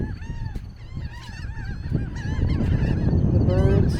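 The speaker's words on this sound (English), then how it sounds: "The birds are vocal this morning" A flock of birds honks at Oso Bay on a hazy morning, many nasal goose-like calls tumbling over one another in a continuous chorus, fairly near and swelling louder in the second half.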